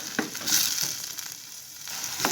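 Red kidney beans sizzle and fry in a pot, giving a close, steady crackling hiss broken by a few sharp stirring clicks, with no voices.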